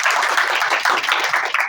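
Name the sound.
audience applause welcoming speaker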